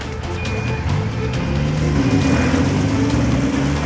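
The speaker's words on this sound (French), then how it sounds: "Il prend le volant de la dépanneuse pour ajouter la puissance du moteur à celle des treuils." A heavy tow truck engine revs hard while pulling a 32-tonne truck stuck in mud with winches, a loud, steady, close drone with shifting engine tones throughout.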